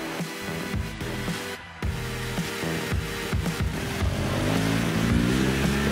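A motocross motorcycle climbing a loose, loamy dirt uphill straight at full throttle, its engine rising steadily in pitch and loudness with a few quick gear-change dips, close and continuous.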